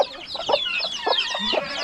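A mother hen clucks softly in short, low bursts beside her seven chicks, whose rapid high peeping chatters continuously throughout, all close by in a backyard poultry area.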